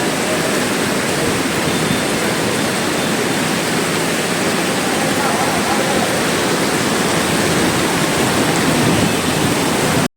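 Heavy rain and rushing floodwater in Junagadh city streets make a constant, loud, hissing roar that never lets up.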